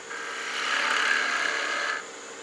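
A wooden gnome ornament finial spins on a lathe as a tool makes a single soft, rasping cut lasting about two seconds, then stops.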